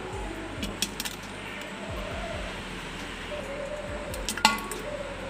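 Pieces of homemade mango pickle moved by hand into a wiped-dry ceramic jar, heard as soft squishy handling with a few light clinks against the jar, faint and close.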